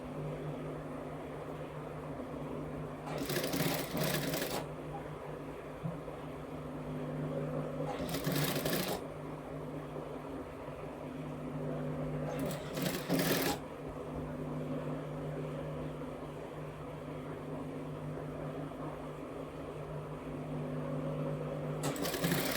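A domestic sewing machine stitches a blouse sleeve in steady, continuous runs, broken by a few brief louder bursts of clatter, heard close and alone.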